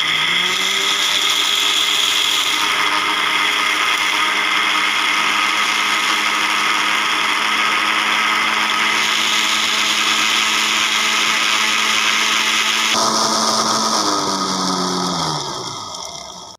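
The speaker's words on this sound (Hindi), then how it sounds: "अब इसको ग्राइंड कर लेंगे।" Dried onion slices are ground in an electric grinder at home to make onion powder, a loud, continuous high-pitched whirring motor that holds steady, shifts pitch as the contents break down, then winds down at the end.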